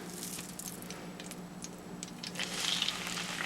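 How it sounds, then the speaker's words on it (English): Meat browning in a hot pot for a pot roast, a quiet, steady sizzle and crackle of frying with a few brief spits and pops, faint and alone. "It's starting to sizzle when I add water to it."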